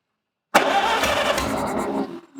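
A barn-find Farmall H tractor engine, running on only two cylinders, cranks and catches abruptly after silence, then runs roughly and loudly for under two seconds before tapering off, close up with no talk.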